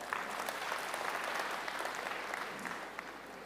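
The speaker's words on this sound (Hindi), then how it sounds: "अच्छा चलो, मैं ताली बजाता हूं।" Hands clap fast and steadily for a few seconds without pause, moderately near, during a breathing and health session. Some faint room murmur sits underneath.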